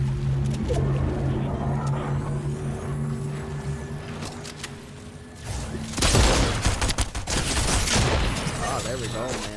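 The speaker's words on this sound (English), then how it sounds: "Some other people are shooting." Gunfire from other players in the Fortnite video game rattles in dense bursts, loudest in the second half, over steady game engine noise and speech.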